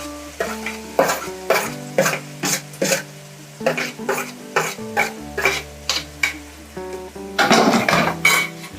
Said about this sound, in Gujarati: હવે આપણે કાંદા નાખશું.